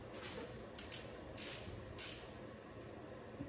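A ratchet breaks loose the 13 mm front differential drain plug on an 88-98 Chevy 1500 pickup, giving a few faint, spaced clicking strokes against a quiet background with no speech.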